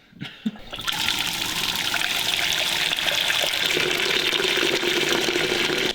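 Water pours out steadily in a continuous, loud rushing stream during DIY beeswax extraction in a shed, beginning after a short knock and holding for several seconds without any talk.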